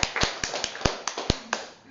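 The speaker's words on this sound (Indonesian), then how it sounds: "Ya, tepuk tangan dulu buat AWM." A small group claps in a steady, evenly spaced rhythm at a business seminar session, with eight or so sharp, close hand claps over two seconds.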